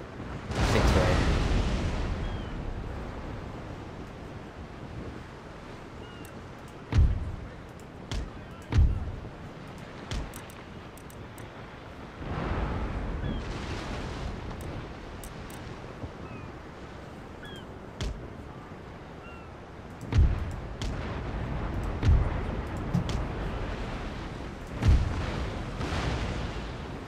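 Naval cannon broadsides in the Empire Total War strategy game, with heavy booming volleys fired in clusters, loud and rumbling, separated by calmer stretches of sea ambience and occasional background voices.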